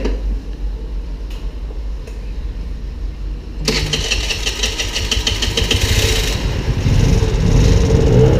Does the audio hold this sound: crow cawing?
no